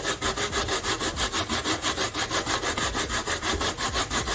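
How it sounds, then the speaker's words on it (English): A fresh coconut is grated by hand in a kitchen, giving a steady, rapid rasping scrape that repeats in even strokes, close and loud with no talking. "So I'm just gonna grate the coconut now."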